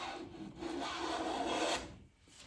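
A Stanley hand plane takes a full-width shaving from a wooden board, giving one sustained, close, even rasping hiss of about a second and a half that tails off abruptly, with no talking.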